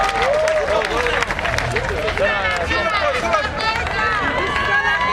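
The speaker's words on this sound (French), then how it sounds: "Ici, représentant le premier arrondissement sous vos acclamations." At a Gabonese campaign opening rally, a crowd applauds and cheers as a candidate for the first arrondissement is introduced, with steady clapping, shouts and whistles under loud, overlapping voices.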